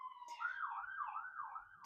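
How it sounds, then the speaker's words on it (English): Emergency siren wailing in downtown Los Angeles, a clear rising and falling tone cycling several times, fairly faint and distant, heard alone. "I really hope that you guys do not hear the sirens in the background"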